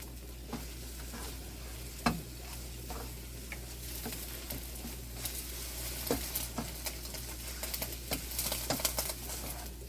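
Eggs frying in a wok for beef fried rice at home: a steady, quiet sizzle with scattered spatula taps and scrapes, busier toward the end, with no talking.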